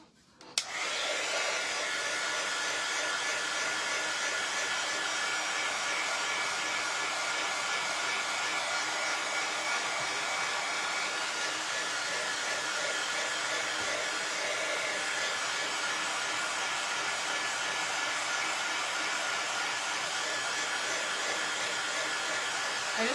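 A hair dryer blows on fresh paint on a small bird shelf sitter, switching on abruptly and then running as a steady, unbroken whooshing whir for over twenty seconds with no talking.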